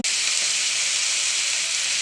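Oil sizzles in a pan as lofa greens are fried, a loud, steady, close hiss that continues without pause.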